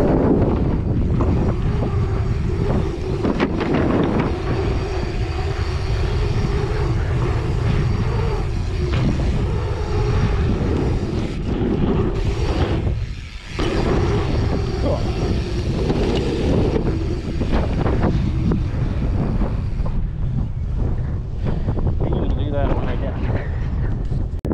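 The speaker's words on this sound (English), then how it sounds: "And yes, it's windy." Steady, loud wind buffets the microphone outdoors at a railyard, a continuous roar and rumble with a brief dip midway, persisting without a break.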